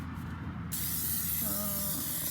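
Amsoil Mudslinger sprays from an aerosol into a vehicle footwell, a steady close hiss starting partway in and running continuously over low rumble, with a faint tonal whine briefly underneath.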